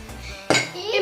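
A spoon clinks and scrapes against a bowl while stirring gingerbread dough with spices, a sharp knock followed by close scraping, with a faint voice nearby.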